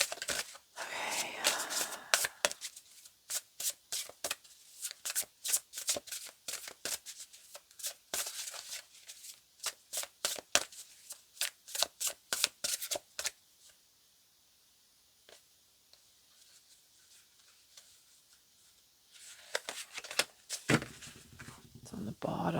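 Oracle cards being shuffled by hand in bursts of crisp riffling and flicking, close and fairly loud, pausing into near silence midway before resuming, with a voice speaking in places.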